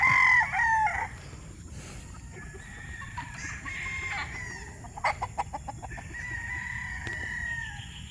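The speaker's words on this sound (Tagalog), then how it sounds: "Pinapatuka na yung mga stag." Young gamecock stags, pure and crossbred birds newly tethered, crow and cluck while being fed, with a loud crow at the start, repeated clucks and further crowing close by, and no talking.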